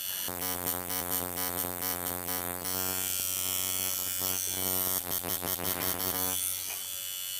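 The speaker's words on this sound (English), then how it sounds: "you hear the sound of the coil machine, so soon as I hit a little bit of skin, the machine goes back" A coil tattoo machine runs on skin with a steady, close electric buzz, its pitch and intensity shifting slightly as the needle touches down.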